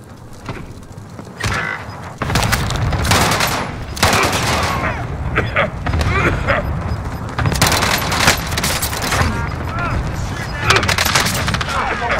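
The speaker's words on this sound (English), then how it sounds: "Allied cluster strike inbound" Cluster strike explosions in Call of Duty: Warzone, a rapid string of loud, heavy blasts and gunfire-like bursts rolling on for several seconds, with a voice speaking over parts of it.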